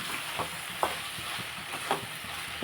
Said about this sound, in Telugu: ఒకసారి టమాటా వేసి మనం కలిపేసుకుంటున్నాము